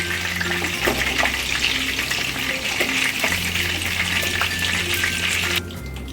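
A second batch of chicken pieces deep-fries in hot oil for a crispy restaurant-style starter, giving a loud, steady, close sizzle with crackling bubbles. A low hum rises and falls under it. The sizzle softens abruptly near the end, and no one speaks.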